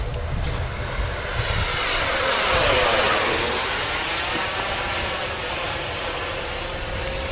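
Radio-controlled F-16 model jet flying overhead, a loud rising and falling turbine whine with a Doppler sweep as it passes, sustained throughout over a wind-rushed background.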